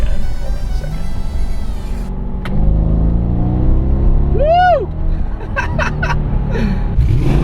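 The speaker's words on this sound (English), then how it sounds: "The exhaust note is really good on these cars from the factory." A supercharged, very high-mileage Mercedes E55 AMG holds a deep, steady exhaust rumble that rises and falls as the engine revs, with a brief whistling sweep in the middle. No one speaks.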